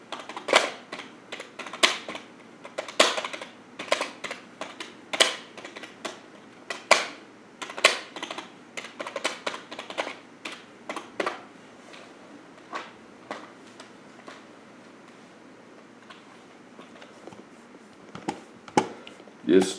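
Keyboard typing during a GTA 5 Online gaming stream, heard as clusters of sharp, fairly close key clicks in irregular bursts and pauses, with occasional talk.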